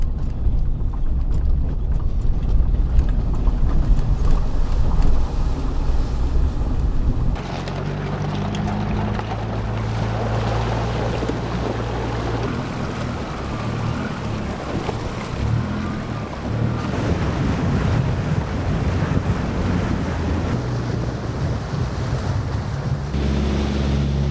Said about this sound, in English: Little river crossing here.